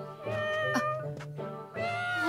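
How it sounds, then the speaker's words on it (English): Several cats meow in an anime feudal-era cat village, a string of clear, close mews one after another with short pauses, the last drawn out. "Look at all these cats!"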